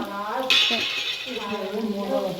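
Cumin and mustard seeds hitting hot oil in a pan for a fish curry give a sudden bright sizzle that lingers, with faint stirring and utensil clinks underneath and some voice in the background.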